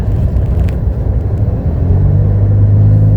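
Interior of a 2018 Daihatsu Ayla R Deluxe as it shifts into second gear (D2), a loud, steady low engine rumble that deepens and firms up into a humming drone partway through, no talk.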